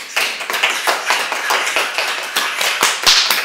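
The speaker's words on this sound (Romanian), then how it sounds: "Acum eu cred că doamna Carafil trebuie aplaudată." A room applauds after a doctoral thesis defence in psychology, with dense, loud, sustained clapping from a small close crowd and no voices over it.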